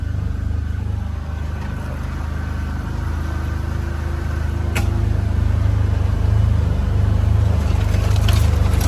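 A tractor engine carrying a wood chipper drones throughout, a constant low rumble that grows slightly louder toward the end, with no talking.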